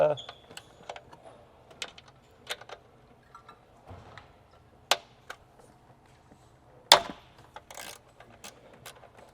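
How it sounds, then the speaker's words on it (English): A compact Z1 ratcheting keychain wrench clicks while turning 10 mm bolts on a G37's intake, giving scattered quick ratchet ticks and a few sharper metallic knocks, close up and fairly quiet. "So let's grab our Z1 ratcheting keychain."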